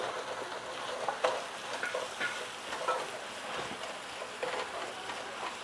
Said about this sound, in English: So now you need to constantly stir it because the ginger garlic paste will stick to the bottom.